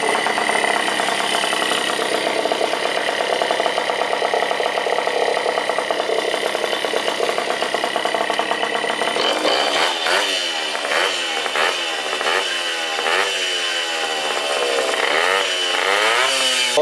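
A 64cc stunt moped engine runs with a buzzy, raspy two-stroke drone, then revs up and down repeatedly in uneven bursts as the throttle is worked.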